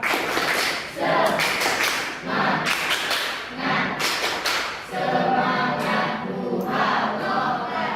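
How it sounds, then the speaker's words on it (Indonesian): Two school classes perform a rhythmic cheer clap in unison, bursts of sharp, loud clapping in patterned groups separated by short pauses, with stomps or thuds and crowd noise in the room. "Silakan sekarang tepuk semangat dulu lah ya, biar semangat semuanya."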